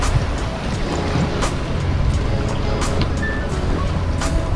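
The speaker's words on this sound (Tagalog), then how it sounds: "Malakas yung alon ngayon." Strong ocean waves roll and wash in a steady broadband rush near a coastal spot with hotels, with a few sharper splashes breaking through the constant surf.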